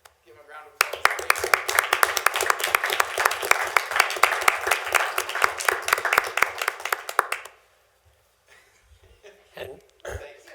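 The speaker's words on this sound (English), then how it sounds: "I'd like to give him a round of applause." Round of applause at a school district board meeting, a room of people clapping steadily for several seconds before fading out, followed by a few scattered voices.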